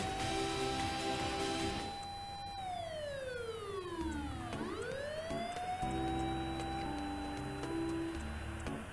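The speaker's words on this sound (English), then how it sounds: "Apparently they weren't too far off, as sirens approaching in no time." A police car siren wails loudly, its pitch sweeping down and then back up as the cruiser closes in, heard over a low musical background.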